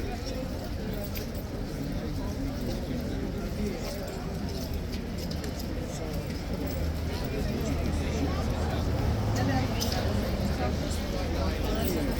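Horse hooves clip-clop steadily on pavement at Horse Guards, moderately near, beneath a constant babble of tourist crowd chatter and street noise.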